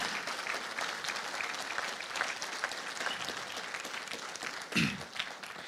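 A church congregation applauds steadily and fairly loudly during a sermon, a dense wash of clapping throughout with a brief louder swell near the end.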